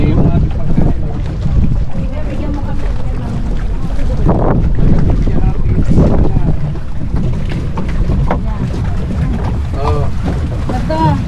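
Boat ride on open water at Hundred Islands, Philippines, with steady engine rumble, wind buffeting the microphone and splashing water, while people talk and exclaim throughout.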